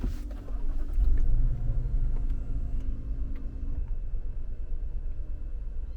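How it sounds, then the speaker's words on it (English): A Lexus LX570 engine cranks and starts with a low rumbling surge that settles into a steady idle, heard close and without any talking. "now I'm going to turn on the car again"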